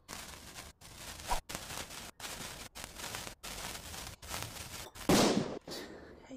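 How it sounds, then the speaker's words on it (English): Firecracker blast in a cooking simulator video game, a sharp burst after a run of rhythmic game sounds broken by short gaps, ending in a loud crackling explosion near the end. "Put a firecracker."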